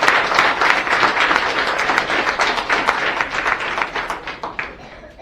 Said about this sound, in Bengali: আমি চাইবো তাদের জন্য আরো একবার জোরে হাততালি হবে।